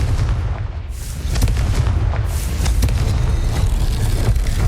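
The Confringo fire spell explodes in the Hogwarts Legacy video game, a loud, low booming blast with rumbling, crackling fire that sustains through the moment, alone without speech.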